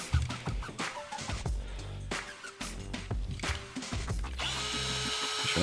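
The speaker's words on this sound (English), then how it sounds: "now you can go ahead and install your motor grip screws like you would as normal" Motor grip screws being tightened with a hand tool while installing a V12 Grip Connect, giving short bursts of scraping, ratcheting turns with brief pauses between them, close and moderately loud, with no voices.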